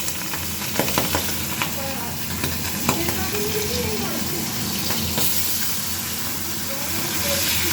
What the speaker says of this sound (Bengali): এখন তেলটা গরম হয়ে গেছে, আর একটা একটা করে মাছ ছেড়ে দিচ্ছি।